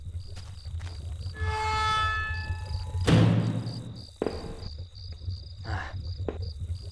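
Steady high-pitched cricket chirping heard from inside a building fills the background throughout, with a dull thump partway through and faint low rumble underneath.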